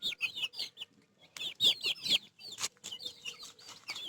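A hen with her newly hatched chicks in a backyard poultry flock gives repeated soft clucks among bursts of high, thin peeping calls, close by, with no voices.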